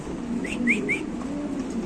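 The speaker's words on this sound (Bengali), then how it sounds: "আরেকটা মুন্ডিয়ার নর কবুতর বিশাল বড় সাইজের লাল কালারের একটা নর" Pigeons at a market sale offering large red male birds give three short, quick calls in a row over a quiet background, with no talking.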